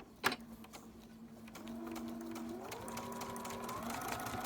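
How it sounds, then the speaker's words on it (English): A sewing machine fitted with a mini piping foot starts with a click, then stitches in a steady whirring run that speeds up partway through, close and fairly quiet, with no talking. "Now when I sew it this time,"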